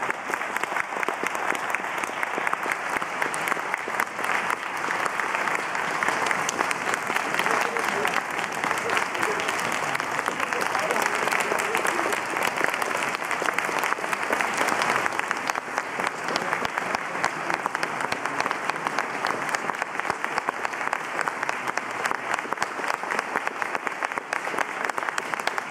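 Sustained applause from a large audience, a dense steady clatter of clapping that holds at an even level throughout without letting up.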